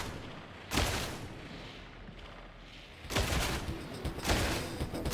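A burst-fire gun fires in Warhammer 40K, sharp clustered volleys cracking out at about 0.7 and 3.1 seconds with another burst near 4.3, loud and close over a noisy battlefield bed.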